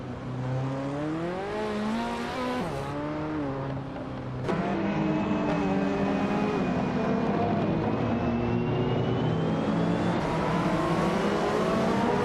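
A 1993 Porsche 911 964 Turbo race car in a racing video game, its engine revving steadily and climbing through gears in a smooth, loud whine, then surging louder partway through with a faint high tone above.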